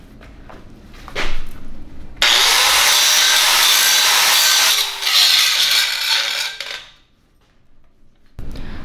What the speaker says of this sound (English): now we're gonna run this cutting wheel up the sides to make sure we get all those wagon tracks out of the sides